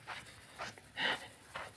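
A dog pants in short, breathy bursts, four or five quick huffs spaced irregularly, faint and close in a quiet outdoor setting.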